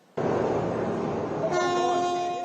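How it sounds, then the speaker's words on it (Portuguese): A cruise ship's horn sounds in Venice just before it strikes a smaller tourist boat moored at the quay: a loud, sustained blast over a broad background rumble, its tone turning noticeably brighter and more tonal partway through. "O navio chegou a buzinar antes de bater na embarcação menor, que estava parada no cais."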